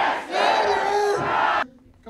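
Crowd at a Democratic political rally with Senator Jon Tester and Kathleen Williams bursts into loud cheering and whooping for about a second and a half, then cuts off abruptly.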